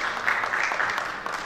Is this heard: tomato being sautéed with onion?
no